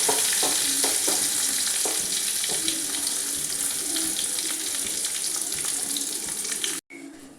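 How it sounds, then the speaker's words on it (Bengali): Coconut pieces frying in a pan with cumin seeds and dried red chillies, giving a steady, close hiss of sizzling oil broken by soft scraping stirs. "এবারে নারকেলগুলো দিয়ে দিচ্ছি, নারকেলগুলো একটু লালচে করে ভেজে নিচ্ছি।"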